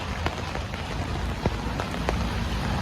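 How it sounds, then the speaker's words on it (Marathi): Steady rain pours down in a dense hiss, with occasional louder drops pattering nearby on a hard surface. "पाऊस कमी झालेला नाही आहे"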